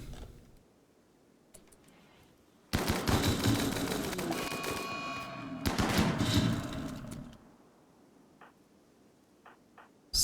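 Colonists in Rimworld open fire in a loud, rapid burst of gunfire lasting several seconds, then it drops to a few faint ticks.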